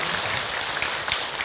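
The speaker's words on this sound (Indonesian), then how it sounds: "Tepuk tangan untuk kita semua." Brief, dense applause from a congregation at an Islamic sermon gathering, steady and fairly loud throughout with no speech over it.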